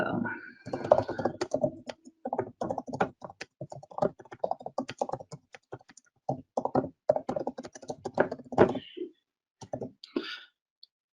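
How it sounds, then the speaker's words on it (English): Rapid clicking keystrokes on a computer keyboard, close and irregular bursts with brief pauses, alone without speech. "you can type in your information"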